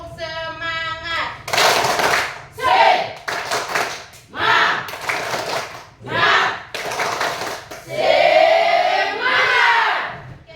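A school class doing the rhythmic 'tepuk semangat' clapping chant, with sharp bursts of group claps alternating with shouted chanted voices in a repeating pattern, loud and close throughout.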